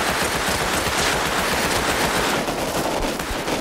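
Rapid automatic gunfire in the Rust Console video game rattles nonstop at close range for the whole stretch, loud and dense with overlapping shots, during a fight around a Chinook supply crate drop.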